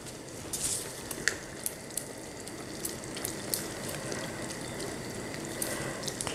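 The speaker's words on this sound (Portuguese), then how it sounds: "vou colocar mais um pouquinho de água com cenoura, porque eu sei que esse molhinho aqui ele vai engrossar um pouco" Water with carrot poured into a chicken sauce simmering for chicken polenta, giving a steady bubbling, sizzling wash with small ticks and pops throughout, fairly quiet and close, with no talk.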